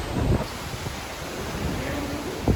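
Strong wind buffets the microphone beside the open ocean on a muggy Bahamas shoreline, a steady broadband roar with a few louder gusts and faint surf underneath, no voices.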